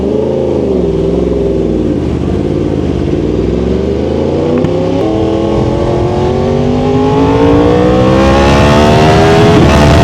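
A Yamaha R1 sport motorcycle engine revs loud and close, climbing and dipping in pitch, then pulling up higher in sustained blips with no talk over it.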